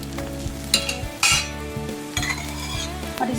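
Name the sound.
makki ki roti with ghee being flipped on tawa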